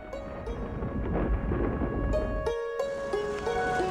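A thunderstorm builds with a loud, continuous roar of rumbling thunder and rain, swelling and shifting throughout with no voices.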